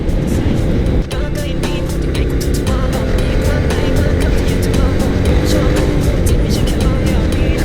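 A motorcycle fitted with a large-bore aftermarket exhaust, its baffle insert removed, is ridden along a newly opened road in Phayao, Thailand; a loud, constant engine roar with wind fills the whole stretch without pause.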